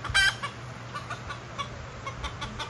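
A rooster, likely a junglefowl, gives a sharp cluck up close, followed by a string of softer, scattered clucks over low background noise.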